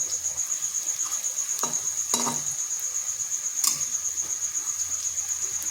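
Potato and semolina fritters with onion and gram flour frying in a pan, a steady close sizzle broken by a few utensil scrapes and clinks.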